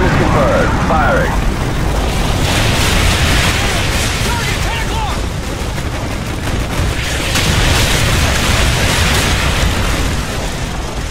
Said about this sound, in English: Received. Artillery inbound.